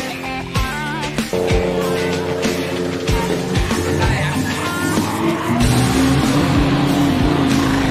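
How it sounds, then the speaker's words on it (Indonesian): GT race cars at practice on a circuit, engines roaring and revving loudly as they pass, tires squealing, a continuous dense racket of several cars close by. "kita lagi nontonin tadi mobil GT Cars lagi latihan"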